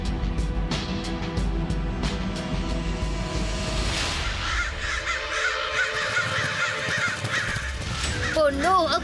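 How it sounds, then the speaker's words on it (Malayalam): Several crows caw loudly and repeatedly at close range, with harsh calls in quick bursts over a noisy background. "ആ കാക്കകൾ നമ്മളെ കണ്ടു കഴിഞ്ഞു"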